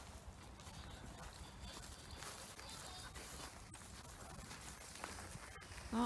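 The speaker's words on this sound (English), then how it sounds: "Oh, and there come the horses" Horses' hooves approach on a farm at feeding time, faint clip-clop footfalls under steady background noise, with occasional soft voices.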